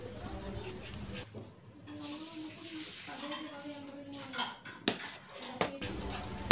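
Utensil scraping and clacking against a pot while stirring a dense mixture of leftover rice and starch dough, irregular knocks and scrapes close by, with some talk in the background.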